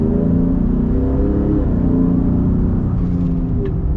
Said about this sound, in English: I want to get just a slight acceleration with the truck and see how it kind of accelerates different compared to a stock Raptor